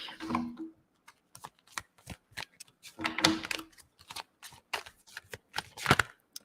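Oracle cards shuffled by hand for a reading, a series of soft, papery riffles and slaps coming in quick uneven bursts, close and fairly quiet.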